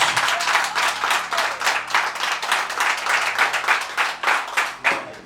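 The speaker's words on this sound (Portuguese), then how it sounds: "Aplauda Jesus." A congregation at an evangelical preaching service claps loudly and steadily, a dense, close round of applause that swells and dips in waves throughout.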